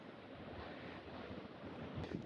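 Sea waves wash onto the shore as a steady broadband surf roar, mixed with wind noise on the microphone. No voices are heard.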